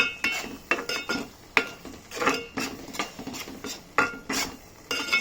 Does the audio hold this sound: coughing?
no